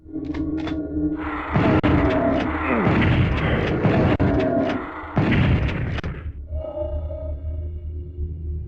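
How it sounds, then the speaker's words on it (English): Shotgun blasts from the Nintendo 64 game Doom 64 thud out over looping game music, a couple of heavy, booming shots with echoing tails, loud and close. "I'm using a shotgun for a little bit."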